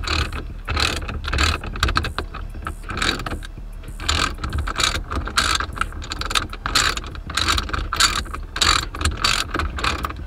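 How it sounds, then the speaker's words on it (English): A ratchet tightens a bolt inside a car interior, with rapid, loud clicking bursts of pawl ratcheting repeating steadily and close up. "The only thing I gotta do is just tighten the bolt down."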